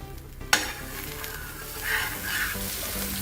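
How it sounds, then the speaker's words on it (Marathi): A veg roll toasts in butter in a pan, giving a steady close sizzle, with a sharp tap near the start and a few light scraping stirs. "दोन्ही बाजूनी जरा आणखीन परत असं खरपूस भाजून घ्यायचंय. बटर लावायचं."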